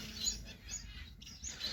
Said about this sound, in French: j'ai pas beaucoup d'oiseaux dans la volière là en ce moment